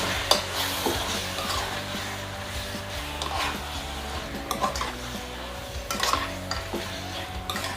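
Sliced chicken with mung beans stirred in a pan, a soft sizzle under repeated clinks and scrapes of a spatula against the metal, with no speech.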